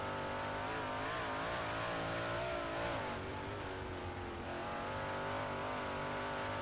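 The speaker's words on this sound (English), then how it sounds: "Listen to Millen work the throttle as he'll complete that lap back." A modified race car engine in a Modified Series race, heard from onboard as the driver works the throttle: a loud, continuous, harmonic-rich roar whose pitch rises and falls through repeated revs, with no voices.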